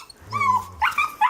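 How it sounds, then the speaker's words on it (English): Happy dogs outdoors in Alaska give short excited whines and yips, rising and falling vocalizations close by, with a low grumble underneath. "Happy dogs."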